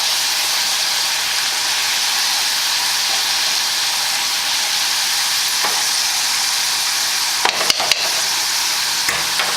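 Potato chips frying in hot oil while being stirred around, giving a steady, loud, dense sizzle throughout, with a few sharp clinks near the end.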